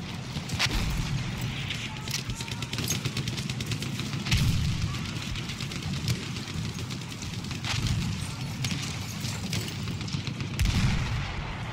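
A Hellriegel 1915 submachine gun fires in Battlefield 1, with rapid close bursts of gunfire and occasional heavier booms in a busy battle mix. Muffled voices and game noise run underneath.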